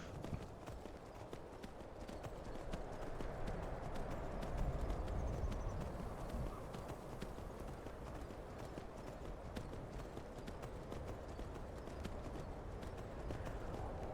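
Steady clip-clop of horse hooves walking at an even pace in the video game Skyrim, continuous and fairly close, with faint ambient noise underneath and no talking.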